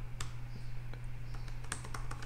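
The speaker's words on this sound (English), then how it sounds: "type in Apex, /Apex, and then welcome" Light, quick keystrokes on a computer keyboard, irregular close clicks over a faint steady electrical hum, no voices.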